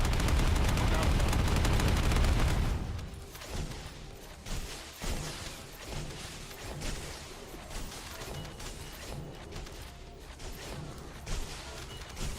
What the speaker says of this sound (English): On your signal, we'll initiate suppressing fire.